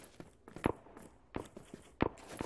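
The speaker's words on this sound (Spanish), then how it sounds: "Escucho pasos. escuchan pasos, tío." Footsteps in the shooter game Crossfire Zero, a few irregular thudding steps with quieter scuffs between them, fairly close and alone with no talk over them.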